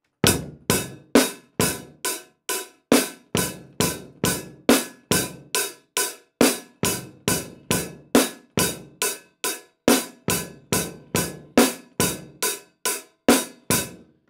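A drum kit plays a steady repeating pattern of sharp, evenly spaced hits with quick decays, close and moderately loud with no talk.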